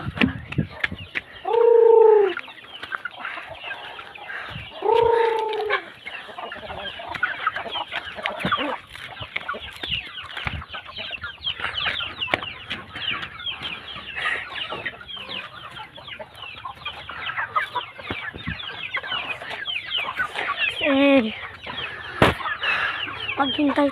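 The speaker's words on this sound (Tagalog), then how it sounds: "Yung favorite ko na manok." Chickens cluck in a flock, with two louder near calls early, a loud call near the end and scattered clucking and scratching throughout, fairly faint overall.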